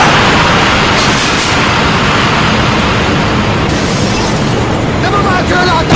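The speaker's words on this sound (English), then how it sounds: "Friendly predator missile inbound." Predator missile explosion in a Call of Duty–style multiplayer match on the Terminal map, a loud sustained broadband roar of blasts and rumble filling the whole stretch, with game voice callouts faintly underneath.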